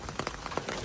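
Rain falling outside a cave on a hike to Baghdwar near Kathmandu, a steady soft patter with a few close drips, brief and continuous with no talk.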